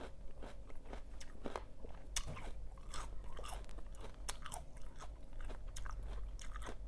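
Ma khao khwai fruit is bitten and chewed up close, with a quiet, continuous stream of crisp crunches and no voices.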